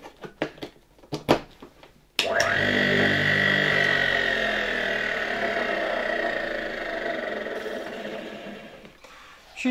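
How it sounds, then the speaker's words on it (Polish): A 1958 Croatia single-phase electric motor from Zagreb starts with a sudden whir after a few clicks and handling knocks, then runs with a steady close hum and whine that slowly eases before cutting off. "Silnik obraca się w tą stronę,"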